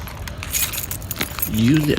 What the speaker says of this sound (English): Sorry, I'm just getting the keys out to get in the department.